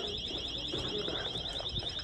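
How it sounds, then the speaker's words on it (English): A store alarm going off during a robbery at a Ross Dress for Less, a loud continuous warbling electronic siren heard indoors over faint background murmur. "for the next about 15 minutes, there was alarms going off"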